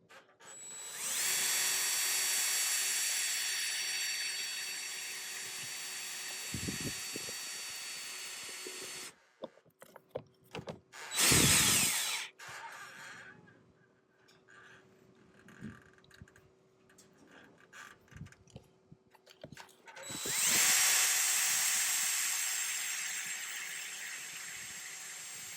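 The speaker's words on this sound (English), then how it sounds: "I'll get some mounting screws in here" A power drill drives mounting screws for an outdoor motion light, with two long sustained whirring runs separated by a quieter stretch of clunks and handling noises.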